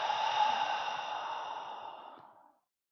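A long, slow, relaxed exhale during a seated yoga neck stretch sounds close and airy, fading out over about two and a half seconds into silence.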